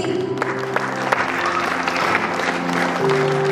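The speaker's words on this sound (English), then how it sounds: "Keep clapping for them." Audience applause at a school prize distribution ceremony, a steady wash of many hands clapping throughout, with music or tonal sound running underneath.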